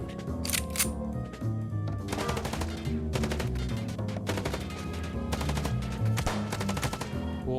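Rapid gunfire in the video game Chicken Police: dense, repeated bursts of sharp shots come over steady background music, loud and close, with brief pauses between volleys and no speech.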